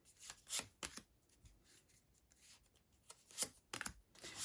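Crisp, papery riffles of tarot cards being shuffled in quick bursts, with short pauses between them, close and fairly quiet.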